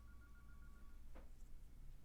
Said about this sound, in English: my phone is ringing. Can you hear that?